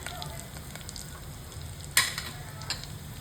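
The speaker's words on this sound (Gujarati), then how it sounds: "અને આમાં વઘાર રહેશે આપણે તલ ને જીરા, રાઈ નહીં," Sesame seeds, cumin and curry leaves hitting hot oil for a tempering: a steady soft sizzle with a sharp crackling burst partway through and a smaller pop shortly after.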